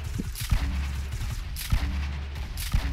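Gunfire in the Fortnite battle royale game, three evenly spaced sharp shots about a second apart, each a punchy crack over a steady low background hum.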